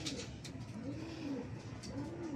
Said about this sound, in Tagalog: Mga kalapatid, ayun.